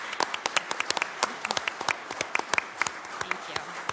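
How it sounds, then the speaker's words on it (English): Scattered clapping from a modest audience honouring the presiding justice, Justice Earl, at a Law Day commemoration, sharp individual claps in an uneven rhythm throughout without talk. "I think you deserve a round of applause."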